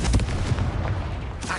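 A Confringo blasting spell in Hogwarts Legacy sets off a close, heavy explosion, a booming low thud with crackle, and further impacts follow in quick, uneven succession across the short stretch.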